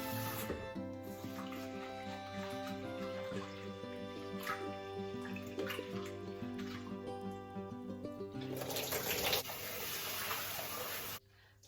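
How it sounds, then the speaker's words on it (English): Faint water swishes and trickles as lentils (dal) are washed in a bowl, quiet under steady background music, with a louder splashing pour toward the end. "These needs to get washed 2 to 3 times until all these cloudy water becomes transparent."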